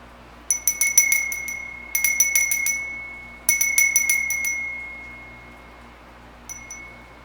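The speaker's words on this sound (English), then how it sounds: "we create a sacred time by ringing the bell 3 times." A small, bright ritual bell is rung in three quick bursts of rapid strikes during a Wiccan spring equinox ritual, each ringing out in a quiet room, with one soft extra chime after.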